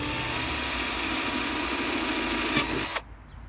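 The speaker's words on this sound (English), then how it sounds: "Just drill a couple holes here." A power drill whines steadily for about three seconds, then cuts off abruptly, leaving a faint hum.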